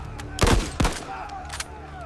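Gunfire from a modern army aimed at a charging samurai: two heavy, close booming shots in quick succession, followed by fainter distant cracks and ringing echoes.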